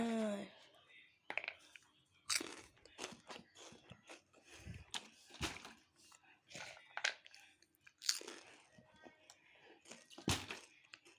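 Someone chews a crunchy corn-puff snack close to the microphone, irregular crisp crunches and clicks separated by quiet gaps, with soft whispered speech in between.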